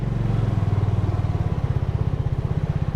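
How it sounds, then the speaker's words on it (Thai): Motorcycle engine on a long-distance Thai ride from Betong to Mae Sai, with a steady, rapid low throb that continues without a break, close and fairly loud, and no voices. "ตรงนี้เราขี่มอเตอร์ไซค์ขึ้นไปได้เลยครับ"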